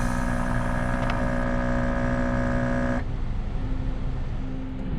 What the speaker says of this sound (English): I'm going to hit brake test, and then you're going to see the brake do its thing.